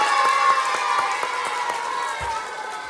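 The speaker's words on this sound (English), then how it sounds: "Give him a big round of applause." Audience clapping and cheering at a school assembly before a boys' contest, a broad crowd wash of applause with quick hand claps, steady and fairly loud throughout.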